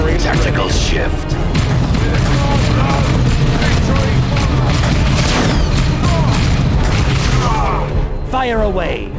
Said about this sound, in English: Keep advancing to avoid the artillery